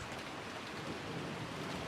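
Steady, even rain hiss in the anime-style game Higurashi When They Cry, a constant soft downpour filling the whole stretch at moderate level with no voices over it.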